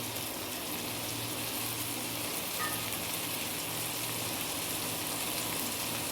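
Onion with turmeric, chicken masala, cumin and coriander powders sautéing for a chicken gravy: a soft, even sizzle and hiss held steady throughout, fairly faint and without talk.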